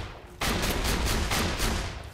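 Rapid gunfire in Borderlands 2 starts abruptly after a brief quiet moment, then continues as a loud, fast burst of repeated shots that holds steady before easing slightly at the end.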